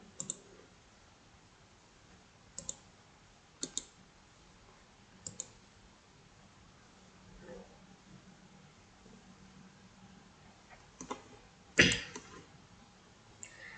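Sharp computer mouse clicks while a new Google Colab notebook is opened, a few isolated taps spread across a quiet room with one louder click near the end.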